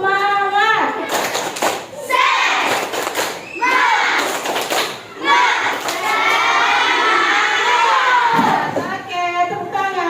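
A grade 5 classroom of children chants loudly in unison, broken by rhythmic bursts of group clapping and a few thumps, with voices rising and falling together.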